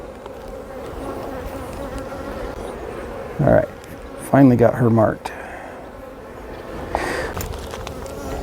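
Honey bees buzz steadily around a beekeeper working an open hive during re-queening, a dense continuous drone throughout, with someone speaking briefly over it.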